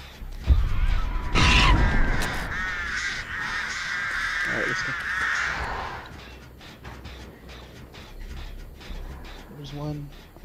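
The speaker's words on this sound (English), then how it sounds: "It was a bird" A crow caws loudly in a video game, a harsh, drawn-out call near the start, with people talking over the game sounds.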